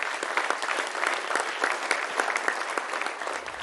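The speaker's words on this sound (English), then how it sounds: "Can we have a loud round of applause?" Audience applause at an award event honouring an Oscar-winning production, a steady dense round of clapping from a large crowd, moderately loud and continuous throughout with no talk over it.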